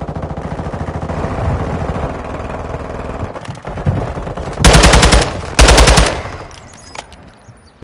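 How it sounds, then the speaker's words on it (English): Gunfire in the Call of Duty Warzone 2.0 video game: a rattle of distant shots followed by two loud, close automatic bursts, each about half a second long, with no talk. "Them people up there shooting at him."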